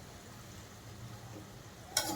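Mashed vegetables for pav bhaji go into a pan of cooked onions, giving a quiet low sizzle with soft stirring, then a sharper brief burst of hissing just before the end.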